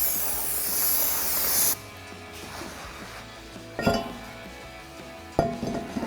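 Brake cleaner sprayed from an aerosol can onto a PowerStop Z26 Street Warrior rotor on a 2015-2023 Mustang EcoBoost: a loud, steady hiss for under two seconds that cuts off sharply, then quieter handling noise and a couple of bright metallic clinks.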